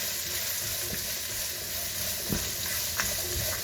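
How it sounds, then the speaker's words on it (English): Chopped onions with a pinch of salt fry in a pan for a lamb meatball masala curry, giving a steady close sizzle and hiss with a few soft stirring knocks and no talk. "give that a really good stir"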